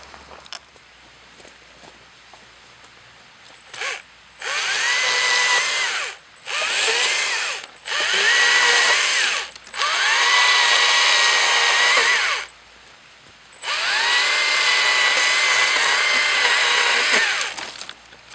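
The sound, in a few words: electric chainsaw running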